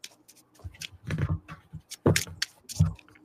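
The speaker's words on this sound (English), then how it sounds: "Okay, I'm shuffling." Oracle cards shuffled by hand close up during a live reading, a run of quick papery riffles and slaps in irregular bursts, fairly quiet with no talk.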